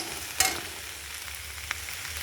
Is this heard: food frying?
yes